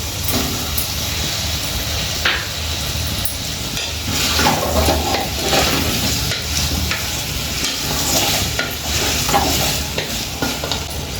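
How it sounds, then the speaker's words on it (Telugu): Tomato pieces fry and sizzle in a pan while a spoon stirs them, making a steady loud hiss with scraping stirs across the whole stretch. No one speaks over the cooking. "ఇప్పుడు టమాటా ముక్కలు వేసుకుందాం."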